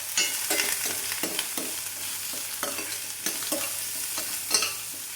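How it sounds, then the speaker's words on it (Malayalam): Ginger, curry leaves and onion stirred in sizzling hot oil for uppumavu, a spoon scraping the pan in steady repeated strokes over a continuous close fry hiss. "ഇഞ്ചി, വേപ്പില, സവാള അതുകൂടി ഇട്ട് നല്ലപോലെ മിക്സാക്കി"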